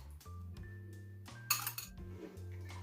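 A bowl of pancake batter of eggs, sugar and yogurt being mixed, with scattered clinks and a burst of quick scraping taps of a utensil against the bowl, close and fairly quiet over a steady low hum.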